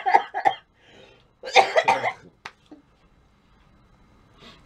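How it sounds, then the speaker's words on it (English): Several sharp, close coughs in quick bursts from someone getting over a cold during a jelly bean taste challenge, with a short throat-clearing rasp after and quiet room tone between. "Sorry about the coughing."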